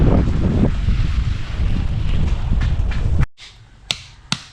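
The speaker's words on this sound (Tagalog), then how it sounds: "sarap ng hangin na habagat" Strong southwest monsoon wind buffets the microphone in a steady low roar, then drops away abruptly, leaving quiet with a couple of sharp knocks.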